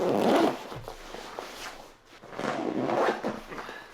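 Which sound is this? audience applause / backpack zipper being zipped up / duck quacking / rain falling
backpack zipper being zipped up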